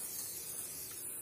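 An aerosol can of impregnation spray hisses steadily as it coats a pair of shoes, a close, continuous airy spray with no voices over it.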